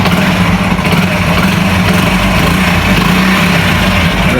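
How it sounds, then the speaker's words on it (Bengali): A 2008 Hero Honda Passion Plus motorcycle runs close by, its engine giving off a loud, steady idling drone with an even low thrum and no changes in pace. "আপনারা এই বাইকের সাউন্ড শুনতে পাচ্ছেন"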